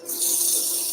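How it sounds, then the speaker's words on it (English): Rolled abrasive rubs inside a drill hole in a driftwood flute, making a single short, close, harsh rasping stroke. "Going to roll up the abrasive, get that down into that drill hole, clean out some of the ragged area in the bottom"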